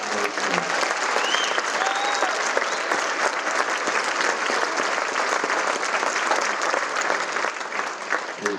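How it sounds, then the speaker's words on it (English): A crowd at a community recovery event breaks into sustained applause, dense and steady clapping that carries on evenly for several seconds with faint voices mixed in. "let's give another hand clap for that"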